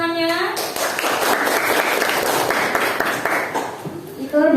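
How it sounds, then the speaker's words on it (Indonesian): A junior high classroom of students claps for a group presentation, a brisk burst of close, dense clapping that follows a voice and gives way to speech at the end. "Ya, beri tepuk tangannya."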